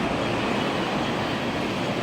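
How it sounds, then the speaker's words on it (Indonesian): A train at an underground railway station in Hong Kong, heard as a steady, loud, broadband roar with no breaks. "stasiun kereta api."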